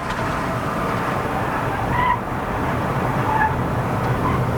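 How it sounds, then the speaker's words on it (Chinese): Steady tyre and road roar from a Proton X70 1.5 TGDi SUV driving at speed on a Malaysian hill road, a continuous broadband hum that stays even in level throughout with no talk over it. "除了轮胎有声音会让你怕以外，其实还蛮稳。"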